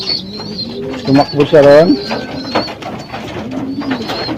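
A pigeon coos softly nearby in a few low, rolling bursts while someone talks over and around it.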